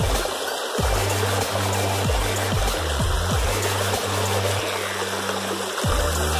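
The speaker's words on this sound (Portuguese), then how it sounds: "Que a água escorrendo aqui" Water trickles and splashes steadily in a small stream, a close, loud, continuous burble with repeated gurgling drops.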